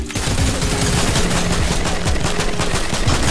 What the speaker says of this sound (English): He shot me through